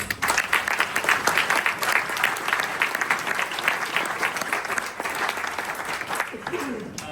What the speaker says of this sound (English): Can we all give them a big round of applause for coming?